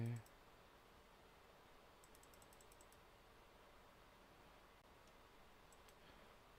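Faint, quick bursts of mouse clicks from a computer mouse rerolling character stats in Baldur's Gate II, arriving in short clusters of rapid clicks against a quiet background hiss.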